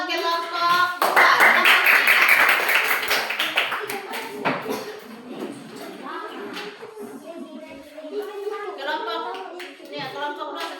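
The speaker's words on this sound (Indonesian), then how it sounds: "tepuk tangan buat kelompok 2." Third-grade pupils clap for a student group in a classroom, with a loud burst of quick clapping in the first few seconds that fades into children's and a teacher's voices talking.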